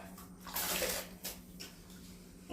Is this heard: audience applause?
no